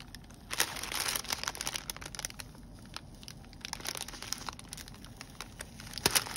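Paper packaging crinkles and tears in steady, close handling as it is unwrapped slowly by hand, with brief louder crumples near the start and end and no talk.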